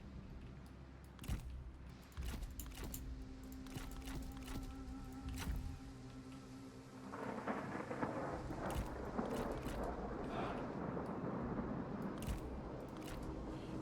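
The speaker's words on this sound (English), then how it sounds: "It is raining again, which is not nice" Steady rain patters and rumbling thunder rolls in the background of the strategy game Duchy of Shi, with scattered sharp clicks and the downpour growing heavier and denser midway.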